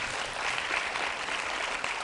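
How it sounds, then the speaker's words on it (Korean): A university church congregation claps together in steady, dense applause, filling the room evenly from start to finish with no voices above it. "서로를 위해서 격려의 박수를 한번 쳐줬으면"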